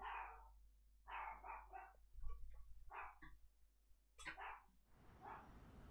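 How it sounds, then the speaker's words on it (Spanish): A dog barking in short bursts, several sharp barks in quick groups with pauses between, fairly close, over a low steady hum with no talking. "Se escucha el Usu ladrando."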